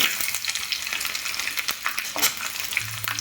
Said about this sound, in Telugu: నూనె వేడెక్కింది. జీలకర్ర, ఆవాలు, దంచుకున్న వెల్లుల్లి రెబ్బలు